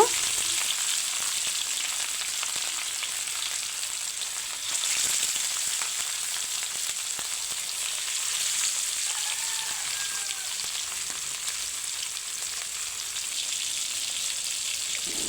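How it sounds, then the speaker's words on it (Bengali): Pieces of katla fish fry in hot oil for a Bangladeshi curry, giving a steady, loud, rain-like sizzle with crackling spatter that holds close and continuous, swelling slightly midway. "তেলটা গরম হয়ে গেছে এখন আমি মাছের পিসগুলো দিয়ে দেব"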